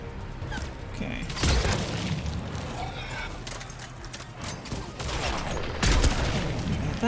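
Grenade explosions in the video game Mass Effect 3, several heavy booming blasts, with two especially strong ones, amid rattling gunfire and combat noise, loud and close.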